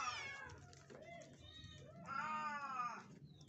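Small kittens meow close by in a few high, drawn-out cries, one longer and louder call near the end, over a quiet indoor background.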